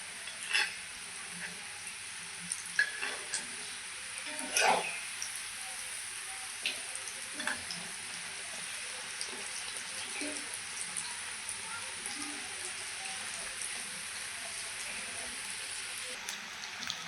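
Paneer kebabs fry in a pan, giving off a soft, steady sizzle with a few faint pops and clicks. The sizzle stays quiet and even throughout.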